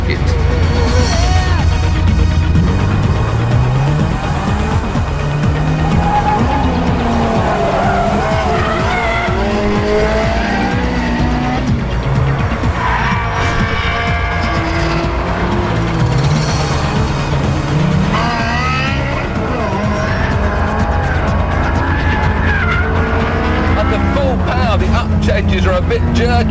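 A Ferrari 360 driven with traction control off around the Fiorano circuit in GTA 5, its engine wailing continuously through gear changes while tires squeal in long skids, loud and close throughout, with someone talking over it.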